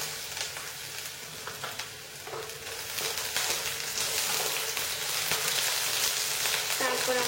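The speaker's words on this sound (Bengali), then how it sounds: "এবার আমি এর মধ্যে দেব পেঁয়াজ কুচি" Chopped onion frying in hot oil with black cumin, a steady close sizzle that swells louder after the onion goes in, with occasional stirring scrapes and no talking.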